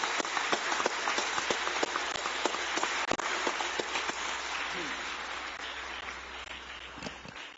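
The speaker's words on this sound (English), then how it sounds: "Let's give them a round of applause again" Applause for the children's performance at a UN-Habitat Assembly session in Nairobi: sustained crowd clapping heard from a distance, dense and even, gradually easing toward the end.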